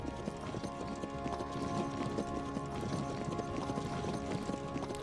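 Horse hooves clip-clop in a Decisive Campaigns Ardennes Offensive war game, a steady rhythmic trot of several hooves repeating throughout at moderate loudness with no talking over it.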